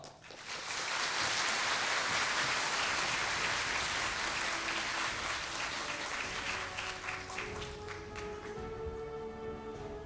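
Warm audience applause at an opening ceremony as the general chair takes the stage, building quickly into dense sustained clapping that thins toward the end as music or tones emerge.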